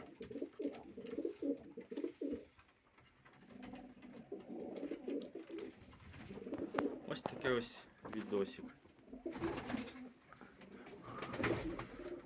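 Red pigeons coo in repeated soft throaty bursts at close range while someone talks over them.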